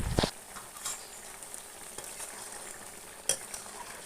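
Broiler chicken meat fries in a pan with a steady soft sizzle, punctuated by a few light clinks of a utensil stirring against the metal.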